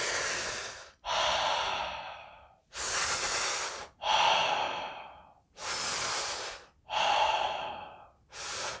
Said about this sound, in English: You're always breathing in or breathing out. There's no gap between the inhale and the exhale.